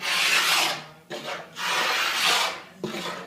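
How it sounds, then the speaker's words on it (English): Sanding a wooden mantel during a dining room remodel: loud, coarse rasping strokes in long sweeps separated by short pauses, close up with no talking. "Kevin has finished sanding the mantle"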